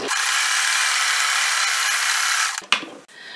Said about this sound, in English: I'm just going to sew with a straight stitch all the way down.